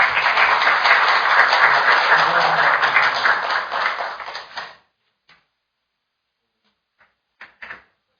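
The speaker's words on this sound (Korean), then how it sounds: "그럼 이제 위원장님 박수로 보내드리도록 하겠습니다" Audience at a Korean panel discussion on apartment security guards' labor rights bursts into steady, dense applause for nearly five seconds, then it cuts off abruptly, leaving silence and a few scattered late claps.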